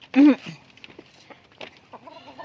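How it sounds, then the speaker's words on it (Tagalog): Native chickens cluck nearby, with one loud squawk early on followed by softer, scattered clucks and calls. "ito naman yung aking mga native na manok"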